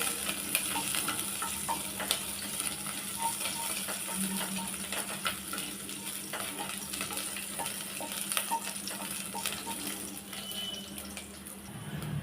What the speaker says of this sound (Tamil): இது எல்லாத்தையும் நல்லா கொஞ்சம் செவக்க வறுத்து விட்டுக்கலாம்